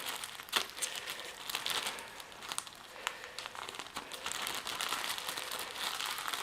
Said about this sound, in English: you can take these foam rollers and put them in a plastic bag.